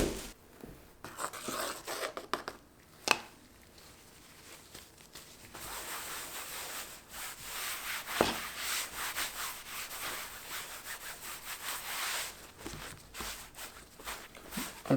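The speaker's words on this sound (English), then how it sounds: "I don't even need to use a brush, I kind of just rub it in." Thinned oil paint, loosened with odorless mineral spirits, is rubbed into a surface by hand with no brush, giving soft, irregular scrubbing and swishing strokes at close range, faint and uneven in rhythm.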